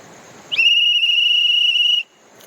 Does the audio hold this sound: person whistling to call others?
yes